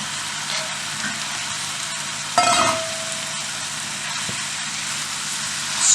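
Chopped spinach hits a pan of sweated onions and herbs, giving a steady soft sizzle with a brief louder burst midway, close and continuous, no talking.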